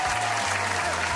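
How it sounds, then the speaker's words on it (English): A dense, steady burst of clapping from an audience fills the whole short stretch, loud and continuous, with some faint voices mixed in. "Applaud."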